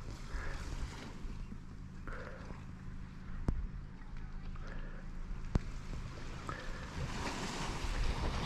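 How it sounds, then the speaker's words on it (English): Waves washing onto White Sands Beach in Eastport, Newfoundland, a soft, continuous surf rumble mixed with wind buffeting the microphone, faint and steady with a couple of sharp clicks. "We are at White Sands Beach in Eastport, Newfoundland."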